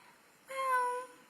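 A person imitates a cat, giving a single clear, drawn-out meow, close and fairly loud in a quiet room.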